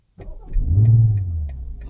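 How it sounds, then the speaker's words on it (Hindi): A BMW M340i engine fires up abruptly after a moment of silence, swelling into a deep exhaust roar that settles into a throaty idle, with faint ticking. "ये जो एग्जॉस्ट से साउंड आती है ना, ये हमेशा आएगी जब भी आप स्टार्ट करोगे"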